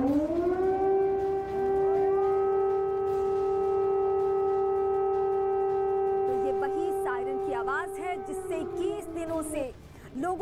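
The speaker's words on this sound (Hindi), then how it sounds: "ये सायरन की आवाज वो है जो 21 दिनों से लोगों की नींद उड़ा चुकी है।" An air raid siren in wartime Ukraine holds one long, loud, steady wail, then winds down as voices start talking over it near the end.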